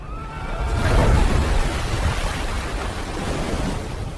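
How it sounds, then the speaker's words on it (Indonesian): Big ocean waves, a broad rushing surge of surf that swells and crashes loudly, then rolls on as a steady roar of churning water. "Ombak besar mendadak menghantam mereka sampai membuat perahu terbalik"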